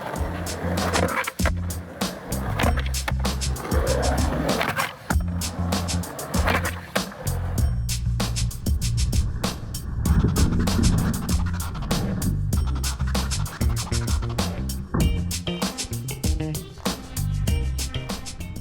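Skateboard wallride nollies: wheels rolling and grinding on pavement with repeated sharp pops, clacks and slaps of the board hitting wall and ground, close and loud, with no talk.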